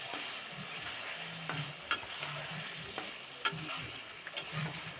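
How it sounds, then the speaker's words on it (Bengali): Spices sautéing in oil in a pan with snake gourd and potato, a quiet continuous sizzle under occasional sharp scrapes and taps of a spoon, close and fairly soft. "এই যে মশলা কষছি, মশলা কষে তেল বেরিয়ে এলে তারপরে চিচিঙ্গা আলুটা দিয়ে দিলাম"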